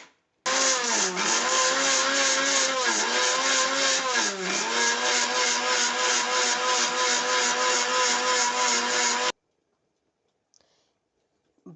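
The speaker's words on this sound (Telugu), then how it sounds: "ఇప్పుడు దీన్ని మెత్తగా మిక్సీ చేసుకుందాం" Kitchen mixer grinder runs at full power grinding cooled roasted dry red chillies, fenugreek seeds, urad dal, mustard and cumin into spice powder, a loud steady whine for about nine seconds with slight pitch dips as the load shifts, then cuts off abruptly.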